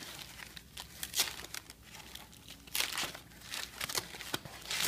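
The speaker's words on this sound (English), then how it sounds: "Okay, now he's gonna go ahead and unwrap the media kit." Plastic wrapping torn and peeled off a photo booth media kit, close crinkling and crackling in uneven bursts, louder toward the end, with no talking.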